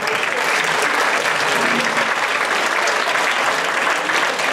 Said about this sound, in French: ça je crois qu'on peut l'applaudir bien fort